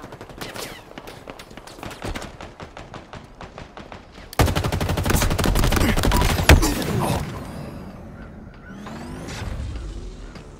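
Gunfire in a Halo Infinite multiplayer Slayer match: rapid automatic bursts, then a louder dense stretch of heavy firing with a sharp crack, fading into lighter mechanical and whooshing game effects.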